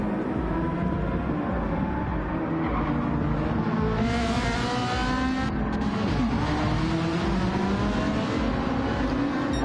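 A Genesis GT3 race car in Gran Turismo 7 at Trial Mountain Circuit, engine note rising and falling through gear changes with a constant loud roar and other cars' engines layered under it, no voices.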